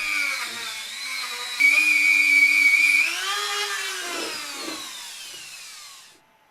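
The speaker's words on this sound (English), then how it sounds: "I then finished them off with a rotary tool and some steel wire bits" A rotary tool spinning steel wire bits inside BMW E30 brake caliper cylinders during restoration, a steady high whine that shifts pitch as the load changes, close and continuous, then winding down to silence.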